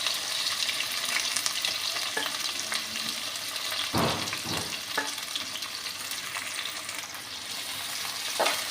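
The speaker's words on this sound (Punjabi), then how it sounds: "ਨਾਲੇ ਪਾ ਦਾਂਗੇ ਕੱਟੇ ਹੋਏ ਪਿਆਜ਼" Chopped onions with mustard seeds and cumin sizzling in hot oil in a pan, a loud continuous frying hiss with a few stirring scrapes midway, close up and without talk.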